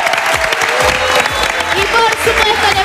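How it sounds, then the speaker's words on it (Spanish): Studio audience applauding on a Spanish-language television variety show, loud clapping and crowd cheers with a host's voice shouting over the noise. "le vamos a pedir un aplauso mucho más grande, más fuerte"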